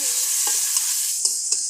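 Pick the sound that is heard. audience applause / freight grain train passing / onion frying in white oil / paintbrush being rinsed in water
onion frying in white oil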